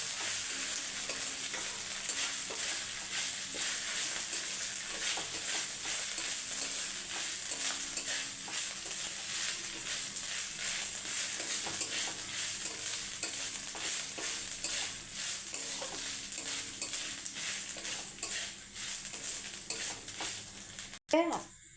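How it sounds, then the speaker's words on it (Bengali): Moong dal sizzles in a pan as it fries with ginger, with a constant crackling hiss and repeated scraping stirs of a spoon throughout, ending in a brief clatter. "আদাটা একসঙ্গে ভেজে নেবো ডালের সাথে"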